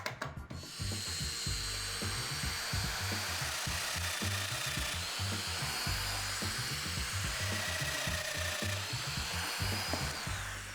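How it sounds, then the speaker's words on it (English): A power tool cuts mortises into the end of a wood center divider panel for a mobile MFT cart, running steadily and loud for the whole stretch with a rhythmic low chatter beneath a continuous high whine. "the next thing I'm going to do is put the mortises in the end of the center divider to attach to the first panel"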